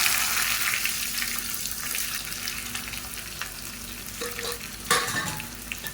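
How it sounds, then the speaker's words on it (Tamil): Chopped small onions sauté with chillies in a pan, giving a continuous close sizzle with stirring scrapes and a clatter of the spoon near the end. "இந்த சின்ன வெங்காயம் நல்லா வதங்கணும்."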